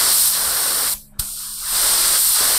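A mini 125 ml HVLP spray gun with a 0.8 mm nozzle, set to its narrowest pattern, sprays epoxy paint in a loud continuous hiss that briefly cuts out and then resumes, close up with no talk.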